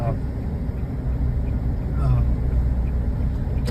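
A car drives into Puerto, toward Las Palmas, with a steady, close engine and road rumble running throughout; a voice talks over it.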